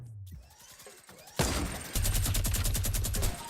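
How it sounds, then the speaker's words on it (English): Minigun fire in Fortnite, a fast unbroken stream of rapid shots bursting in loudly and rattling on for a couple of seconds among other game sounds. "Now she's using probably the minigun"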